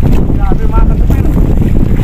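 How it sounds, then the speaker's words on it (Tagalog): Strong wind at sea buffets a fishing boat at night, a loud roaring gust hitting the microphone throughout, with a brief voice cry audible beneath it. "Ang lakas ng hangin."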